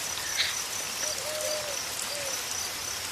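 Steady rain falls as a continuous broad hiss, with faint owl-like hoots and insect chirps over it in a cartoon scene.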